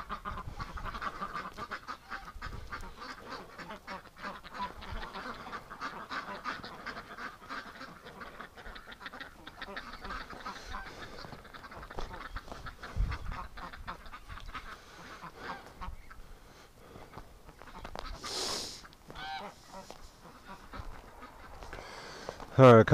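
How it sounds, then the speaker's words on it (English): Ducks, including Muscovies, quack intermittently around a swamp farm in winter, their calls scattered under nearly constant nearby talk and calls to a dog, with a sharper burst of bird calls near the end. "Give the ducks a chance to get out."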